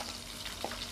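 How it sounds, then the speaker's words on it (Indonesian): Batter hitting hot oil fries with a steady, close crackling sizzle throughout, with one brief louder pop partway through and no talking. "minyaknya udah panas. Kita langsung aja goreng kayak gini ya Bunda"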